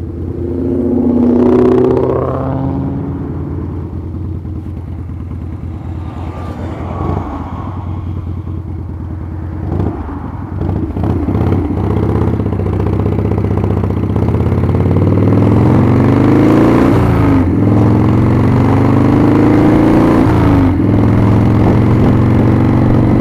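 A carbureted 1997 Harley-Davidson Springer Softail rumbles throughout a test ride, its loud, deep engine note rising and falling through several gear changes and revs, heard close over wind.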